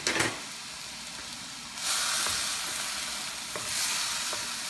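Onions and garlic hit a hot pan for lasagna sauce, giving a steady close sizzle that swells as more goes in, with light stirring clicks and no talk.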